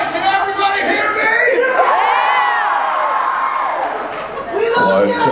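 A large indoor audience yells, whoops and cheers loudly, a dense roar of many voices with shrill high shouts that dips briefly and then surges again.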